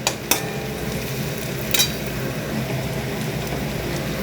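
Crushed ginger and garlic frying with onions and a little salt in a pan for chicken kosha, a steady low sizzle with two sharp clinks of a utensil near the start and middle.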